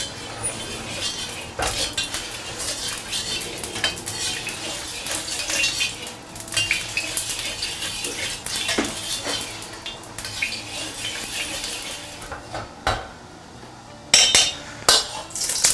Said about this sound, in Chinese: 我们来点油，把锅润一下。